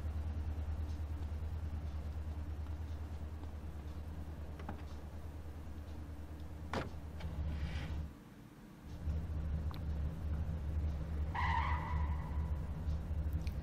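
Car tires skid and squeal in GTA San Andreas as a car drives out of a parking lot, a short screech over a steady engine rumble, followed by a brief drop and then a louder engine with a higher squeal.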